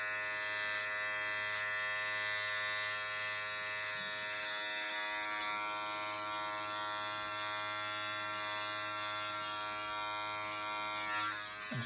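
Electric hair clippers fitted with a grade 2 open guard tapering a beard, a close steady buzzing hum with bright harmonics, running continuously with slight changes as the blade moves through hair.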